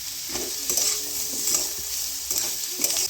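Vegetables with chili, ginger-garlic, beet, carrot and tomato are stirred in a frying pan, a steady sizzle broken by repeated soft scrapes and knocks of the spoon against the pan, close and alone without talk.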